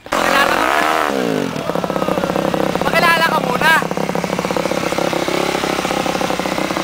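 A YCF 250 dirt bike on a muddy trail revs loudly and close, its engine note rising and falling through several throttle bursts while someone speaks over it.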